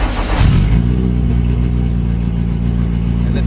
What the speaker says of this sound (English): And it starts up perfectly. Obviously with the check engine light, but it sounds so much healthier at idle.